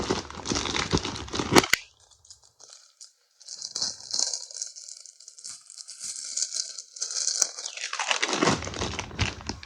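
Floral paper wrapping around resin fireplace mouldings is crinkled and rustled up close, with bursts of crisp crumpling at the start and end and a quieter stretch of soft handling between them.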